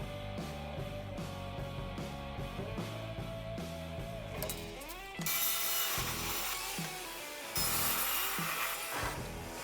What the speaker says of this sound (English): Cutting this expanded metal is kind of a little different